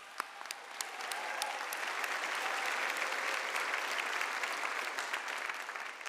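A commencement ceremony crowd applauds student musicians, starting with a few scattered claps before swelling into steady, sustained clapping from a large audience.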